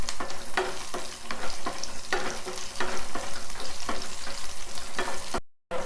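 Cumin seeds frying in a pan on low heat, with a steady crackling sizzle broken by repeated rhythmic scrapes of a spoon stirring the seeds, close and alone with no voices, ending in a brief cut.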